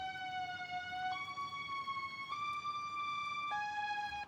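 A simple stepped synth melody passed through a thin lo-fi effect preset, clear tones changing pitch every second or so over a faint hissy noise bed, quiet and without voices.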